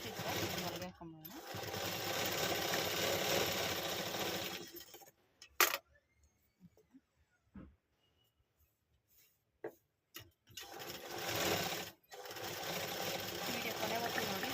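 Electric sewing machine stitching the shoulder seam of a nightie during an alteration, a steady mechanical whir running in loud bursts at the start and end with a quiet stretch of scattered taps between.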